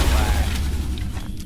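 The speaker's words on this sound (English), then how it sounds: "Throwing grenade." A deep, rumbling grenade explosion booms in the XCOM: Enemy Within video game and decays over about a second and a half, with voice chat faintly underneath.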